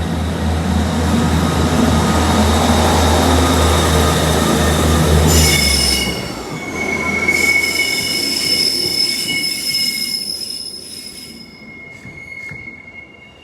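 A passing Northern train with loud, high-pitched wheel squeals ringing over the rumble of the cars, gradually fading away.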